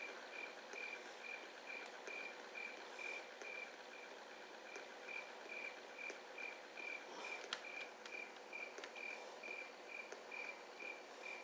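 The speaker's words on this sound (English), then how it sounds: "You can hear all those crickets during nighttime." Crickets chirp steadily through a nighttime scene in the Roblox game RoCitizens, a dense, continuous high trilling with regular pulses, fairly faint and even throughout.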